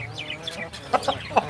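A hen clucks close by after being placed with a rooster, a few short bright clucks in quick succession ending in louder accented calls, with no speech.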